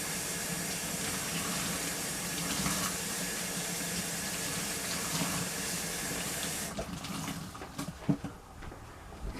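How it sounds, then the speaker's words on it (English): Water runs steadily from a tap as soap is rinsed out of a sponge while cleaning a black stove, a constant hiss that cuts off near the end, followed by a few faint handling knocks. "I'm going to get all the soap off of this sponge."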